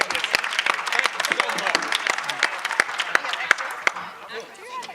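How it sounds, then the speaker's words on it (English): A seated audience at a real estate gathering gives a round of applause, many hands clapping with a few sharper nearby claps standing out, and a voice talking over it before it fades near the end. "let's give everybody a round of applause"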